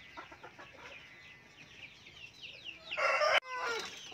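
Free-range and box-cage chickens cluck in short repeated calls, then a rooster crows loudly nearby, a final crow following a brief break.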